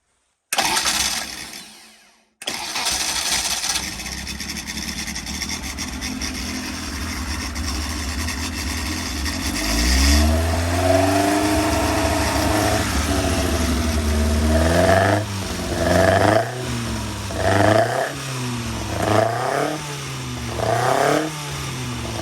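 A Benoy 1200cc engine cranks briefly, then catches and runs loud and close, settling into a steady idle before a series of rhythmic revs rise and fall toward the end.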